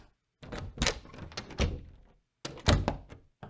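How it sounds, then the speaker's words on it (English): Wooden door foley effects from the Krotos Studio Genesis sound pack: a handful of hollow thunks and knocks, grouped in two short bursts separated by silence, close and dry with no talking. "You also have the wooden doors."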